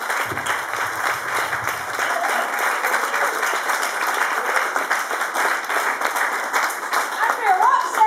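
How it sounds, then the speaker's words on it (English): Comedy club audience applauding at the close of a stand-up show, steady dense clapping sustained throughout, with a few scattered voices and cheers near the end. "Give yourselves a round of applause"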